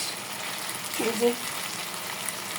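Beef tripe from a Korbani cow frying in a pan makes a soft, even sizzle, while a voice speaks briefly over it in the middle.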